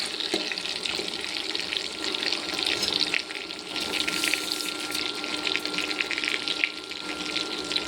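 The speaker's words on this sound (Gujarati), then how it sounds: "તો આવી રીતે આપણે ચમચીમાં પાણી લઈને પછી થોડું નાખતું જવાનું છે" Spoonfuls of water added to a Kathiawadi-style stuffed brinjal curry in a hot pan, producing a continuous close sizzle and bubbling with small splashy crackles and no voices.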